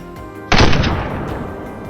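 A rifle is fired while hunting wild boar: one loud, close gunshot with a sharp onset and a long rumbling echo that fades slowly, with no voices.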